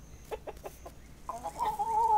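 Chickens in the farming video game Dinkum cluck in a few soft bursts, then one bird gives a longer, sustained squawking call that rises near the end, close and moderately loud with no speech.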